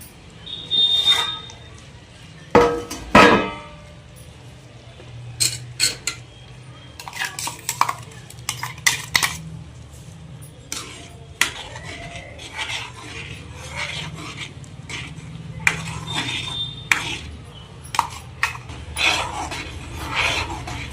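A spoon scrapes and stirs dal with cabbage in a pan, producing repeated rasping metal-on-pan strokes and clinks in irregular bursts across the stretch, fairly close and moderately loud.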